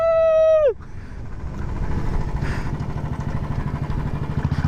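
Honda CB600F motorcycle exhaust rumbling steadily and loud up close, following a brief high-pitched tone that sweeps downward at the start.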